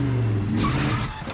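A short-wheelbase 5.0 Mustang does a line-lock tire burnout, its engine droning loudly and steadily while the tires squeal and hiss throughout a brief burst.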